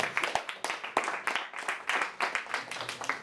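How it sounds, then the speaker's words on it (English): An audience at a live primary schools debate claps in fast, uneven bursts for a speaker, the crisp hand claps close and steady throughout with no voices over them. "let's clap our hands for Pete Model"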